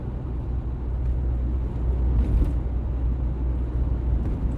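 A Vauxhall Cavalier convertible, a retro mk2, drives over the Forth Road Bridge, giving a steady in-car road rumble with a low drone throughout, a brief swell near the middle, and no talking.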